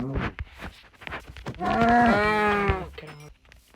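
A sheep in the Minecraft video game gives a few short bleats, including one longer wavering bleat in the middle, close and clear with no talking.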